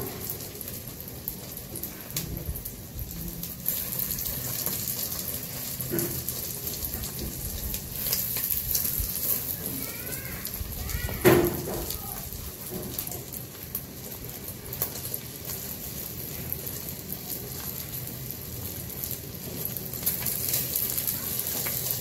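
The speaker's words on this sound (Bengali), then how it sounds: "এইভাবে করে 3টা ডিম আমি ভেজে নেব" Three eggs frying in a pan, giving a steady, close, crackling sizzle like light rain that runs unbroken throughout, with one brief louder pop partway through and birds faintly in the background.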